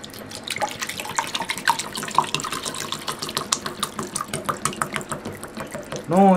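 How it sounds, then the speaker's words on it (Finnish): Cold tap water runs into a drinking glass at a kitchen sink, a steady splashing stream with small irregular drips. A brief rising, ringing tone sounds near the end as the glass fills. "tähän mä tarvitsen vähän vettä tohon lasiin"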